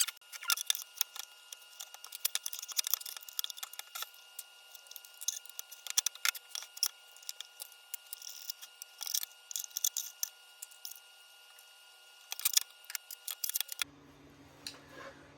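Blade swap on a Festool TSC55 saw, fitting a 1.8mm blade: quiet, close metallic clicks, taps and rattles of handling parts and tools come in scattered bursts, followed by a brief shift in background at the end.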